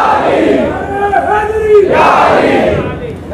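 A crowd at a religious gathering in a mosque chants a slogan in loud unison, a swelling collective shout that rises, peaks and tails off, close and full.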